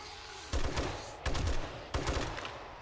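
Three short bursts of rapid automatic gunfire in the zombie survival game 7 Days to Die, each a loud, close volley lasting around half a second, separated by brief pauses.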